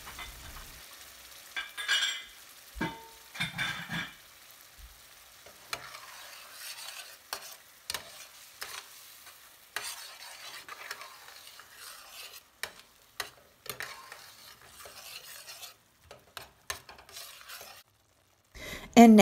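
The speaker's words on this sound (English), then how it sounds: "here's where we're going to go ahead and put in our fresh sugo sauce that we made with our tomatoes" Homemade fresh tomato sugo sauce stirred in a pan for spaghetti, with repeated scraping and clinking stirs over a soft, intermittent sizzle, close and fairly quiet, no talk.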